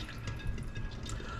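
A peeled egg is dunked into a bowl of ice water, giving a brief, soft, close sloshing and dripping sound with no talking.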